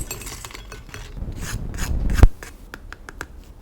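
Crisp crunching and crackling as fried brinjal (eggplant) fritters, airy pakora, are broken apart, a sharp snap in the middle followed by lighter scattered crackles.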